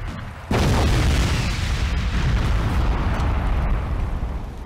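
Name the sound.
fuel tanks exploding in the video game Crysis Warhead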